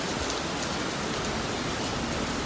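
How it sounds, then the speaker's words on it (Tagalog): Heavy rain pours down in a steady, dense hiss that fills the whole stretch without a break, loud and close, with no voices. "napakalakas ng ulan."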